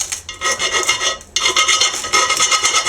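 A saw rasps back and forth through an 89 mm metal exhaust pipe for a GAZ 24 V8 in quick harsh strokes, loud and close, with a brief pause before the cutting resumes.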